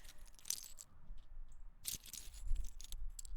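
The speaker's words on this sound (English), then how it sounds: "Ceramic pieces, take one." Faint, sparse clinks and light taps of hard ceramic pieces being picked up and set down, with quiet background ambience.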